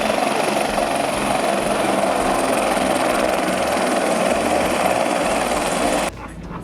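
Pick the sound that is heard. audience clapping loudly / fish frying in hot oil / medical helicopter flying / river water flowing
medical helicopter flying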